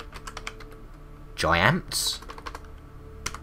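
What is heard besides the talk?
typing on a computer keyboard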